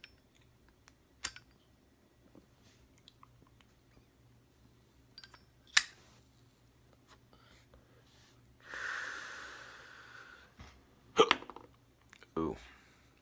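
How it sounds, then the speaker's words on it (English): Several sharp, isolated hiccups from a man who has just eaten a burger, sounding close and spaced irregularly through quiet room tone, with a breathy exhale and a soft vocal sound toward the end. "Straight up, do not give a shit that I got the hiccups."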